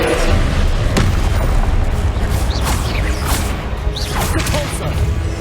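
The Confringo blasting spell fires repeatedly in Hogwarts Legacy, several sharp booming blasts with whooshing tails, loud and close, mixed with other spell effects and a voice calling out.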